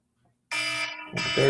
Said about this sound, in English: That's my alarm for the ribs.